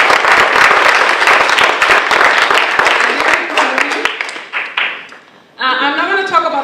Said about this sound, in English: So we want to give them a round of applause.